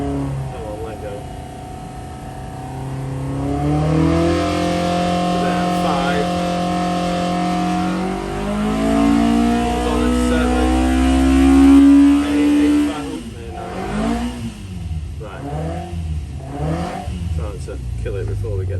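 A car engine revs hard on a dyno with a rising, sustained tone that climbs through the run, then drops and burbles unevenly as the throttle comes off, loud and close.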